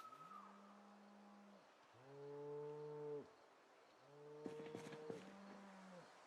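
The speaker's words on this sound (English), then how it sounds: "Whoever knew living on a barn would involve me just hearing mooing nonstop." Several drawn-out cow moos in the video game Project Zomboid, one after another with short gaps, fairly close and clear with no talking.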